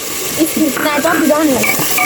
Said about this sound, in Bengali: এখন এটা ভালো করে তেলের উপরে কষানো হচ্ছে